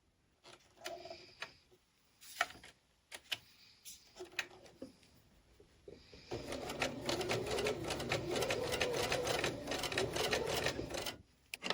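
A domestic sewing machine stitches a small Phoenix quilt block Y seam at a shortened stitch length, first in short clicking bursts and then in a steady, fast rattling run for several seconds before stopping.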